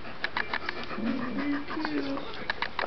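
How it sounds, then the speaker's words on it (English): A big dog pants in quick rhythmic breaths, moderately close, while a person's voice murmurs over part of it. "That's a big dog, isn't it?"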